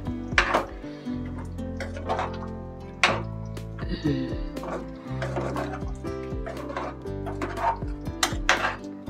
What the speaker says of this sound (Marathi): आता ह्याच्यामध्ये ढवळून घेऊया आपण